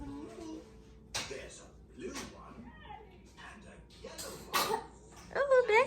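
A person sneezes once or twice in a home kitchen, sharp bursts mixed with coughing or throat clearing, while children and adults chat nearby and a cartoon plays in the background.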